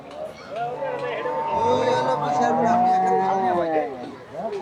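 Cattle at a large Eid al-Adha livestock market in Bangladesh, moo loudly and close in a long, sustained, wavering call that fills the whole moment over faint crowd noise.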